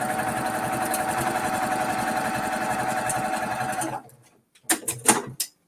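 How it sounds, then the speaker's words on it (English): A sewing machine stitches along a line on a quilt block, running loud and steady with a fast mechanical whir for about four seconds, then stopping before a few short bursts of stitching. "So now I'm going to sew on the line."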